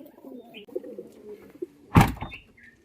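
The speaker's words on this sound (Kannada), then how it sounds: "ಈಗ ಬನ್ನಿ ಬರ್ಡ್ಸ್ನ ಹೋಗಿ ರಿಲೀಸ್ ಮಾಡೋಣ." Male pigeons kept for training coo in low, soft murmurs, followed by one brief thump or knock nearby and a few faint chirps.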